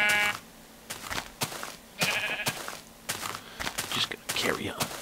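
Sheep bleat in a video game amid repeated sharp hitting and footstep-like thumps, with a person talking over the action.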